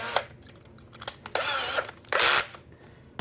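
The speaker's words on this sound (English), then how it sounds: "So I'll turn down the drill" Short bursts of a power drill whirring on and off, a few brief spins then two longer runs, close by, with small mechanical clicks between.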